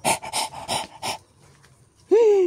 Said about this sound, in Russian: Как она дышит.